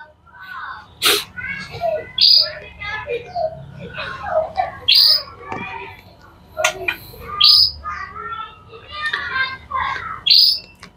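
A canary sings in bright bursts of trills and sharp chirps, close by, with short pauses between phrases.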